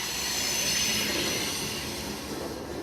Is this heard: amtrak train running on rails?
yes